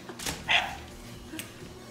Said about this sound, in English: That'll make him bark again too.